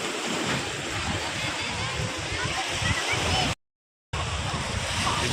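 Sea surf washing onto Azheekode beach during a beach festival, a steady broad wash of breaking waves heard close by under wind and crowd noise, with a brief gap of silence.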